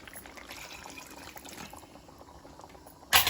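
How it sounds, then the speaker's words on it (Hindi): Water pours in a soft, continuous trickle into a pot of simmering mutton gravy for naan gosht, ending with a sharper splash near the close. "तो मैं इसमें पानी डाल लेती हूँ।"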